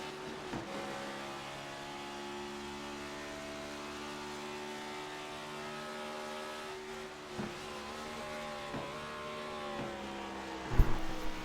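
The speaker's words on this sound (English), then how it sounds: "Listen as it goes up through the gears, but then listen as she goes into the bus stop." A race car at Daytona Beach climbs through the gears, its engine note rising in steady harmonic sweeps before brief shift breaks, heard from a distance as a moderately quiet, continuous whine with a sharper clunk near the end.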